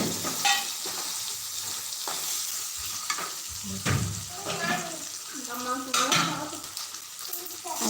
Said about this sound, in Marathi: नंतर त्याच्यामध्ये याप्रमाणे शेंगा घालायच्या आहेत